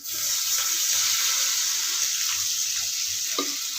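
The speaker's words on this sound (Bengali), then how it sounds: "এবার আমি পরিমাণে একটু জল দিচ্ছি, বেশি দেবো না" Water pours steadily into a simmering pangas fish curry for a few seconds, a continuous splashing hiss with faint sizzling underneath.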